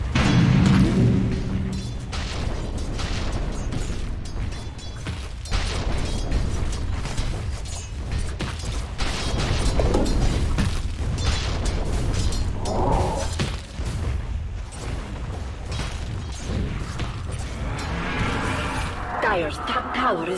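Dota 2 structure fight around a tower, a steady clatter of mechanical attack impacts and booming hits running throughout, with an announcer voice and other game speech layered over the top.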